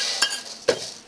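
Glutinous rice stir-fried in a wok over low heat, with a few sharp clinks of the spatula against the metal pan and a soft scraping, grainy rustle between them, close and moderately loud.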